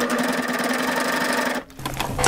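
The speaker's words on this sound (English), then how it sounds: "Now we're sewing in the round." A Baby Lock serger stitches athleisure knit fabric with a steady, close mechanical whir that stops abruptly near the end, followed by a brief quieter hum.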